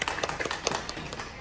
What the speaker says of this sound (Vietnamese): mình chào đón thầy một tràng pháo tay để thầy chia sẻ mình những thông tin ở đây